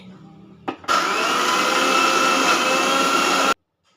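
Mixer grinder whirring steadily as it grinds jackfruit idli batter with cumin and jaggery into a coarse paste, a loud continuous motor drone of about three seconds after a brief start-up click, then stopping abruptly.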